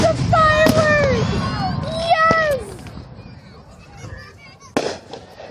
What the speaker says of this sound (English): No, these are fireworks.